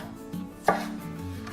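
A knife thinly slicing hot green chili pepper (jalapeño) on a cutting board for Korean doenjang bean-paste stew makes a single crisp, close chop near the middle, with faint music underneath.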